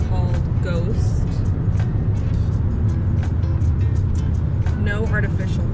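Steady low rumble of a car's interior while driving, loud and continuous throughout, with people talking over it.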